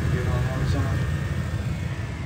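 A small airbrush compressor runs with a steady, even motor drone and a faint tonal whine, constant and close for the whole stretch.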